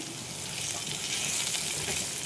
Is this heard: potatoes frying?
yes